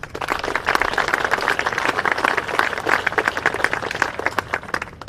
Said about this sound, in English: So please join me in giving the band another round of applause.